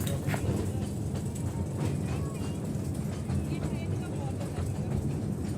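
A toy train ride at the National Railway Museum gives a steady, continuous rumble and clatter with a hissing high end, heard close throughout with people talking over it.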